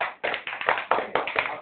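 A short run of hand claps, about seven sharp slaps in a quick, fairly even rhythm, close and moderately loud with nothing else heard.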